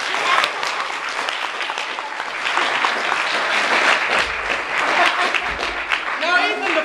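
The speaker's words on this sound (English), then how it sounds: "Give Ethan the frog a round of applause." Children and adults at a balloon show in Dallas, Texas clap steadily and brightly for several seconds, a dense patter of hands close by, with a voice beginning to speak near the end.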